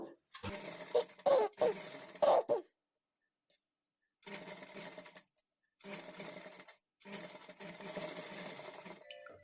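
Short bursts of a sewing machine stitching a princess cut blouse, several runs of a second or two separated by pauses, fairly faint and close, with a bit of handling noise between runs.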